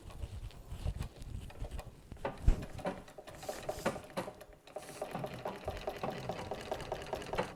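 An antique sewing machine, just restored, runs in a steady rapid mechanical patter with irregular clicks and knocks, close and fairly quiet, with no voices.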